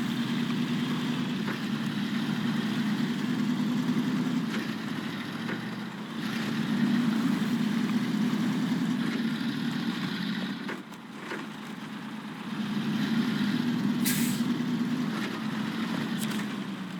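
A steady engine drone from an ANK military truck with all-wheel drive and jack-of-all-trades tires, driving over rough ground in a video game, holding a continuous low rumble with a brief dip midway.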